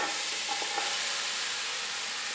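One kilogram of carrot goes into a pot over a fire for gajar ka halwa, setting off a steady broadband sizzle and hiss with a few light stirring scrapes, no voices heard.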